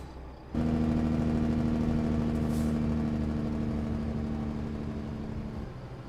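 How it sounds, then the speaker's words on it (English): A Kenworth truck's Jake brake in American Truck Simulator kicks in with a steady, loud droning rattle that holds for about five seconds before easing off, close and alone. "Oh, I forgot how good this Jake break sounded. Jake break down the whole hill."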